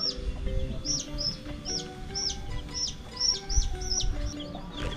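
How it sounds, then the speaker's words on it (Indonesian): Chickens at a coop in a remote Sundanese village in West Java chirp in repeated high-pitched peeps close by, over a low background rumble. "Ini ada kandang ayam."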